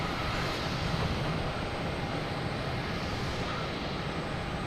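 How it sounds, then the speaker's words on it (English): A JetBlue airliner passes close at Boston Logan Airport at night, a broad, steady roar of jet engine noise filling the air, loud and unbroken the whole time, with no voices. "We'll get this JetBlue that's up close and personal here"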